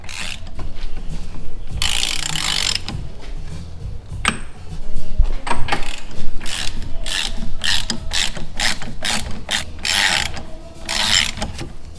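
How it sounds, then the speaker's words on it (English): A ratchet snugs up the clutch nuts on a Ferrari F430 during a GTE Engineering PEGA clutch install, giving loud, close bursts of rapid clicking with short pauses and some quick single clicks, with no voices. "So those nuts go to 275 Newton meters, which is 200 foot-pounds. I'm just gonna get them snugged up."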